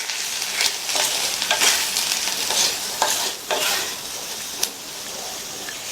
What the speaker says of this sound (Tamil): உப்பு சேர்த்துட்டு நல்லா மிக்ஸ் பண்ணி விட்டுருங்க.